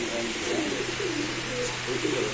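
Several pigeons coo in soft repeated rolling phrases in a pigeon market stall, close by, over a steady background hum; voices talk faintly in the surroundings.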